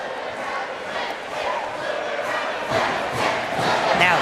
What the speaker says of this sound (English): hear the crowd getting into it with that Parker Van Dorn three.